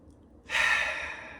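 One slow, soft exhalation, a breathy sigh that begins abruptly and trails off gradually, heard alone and close.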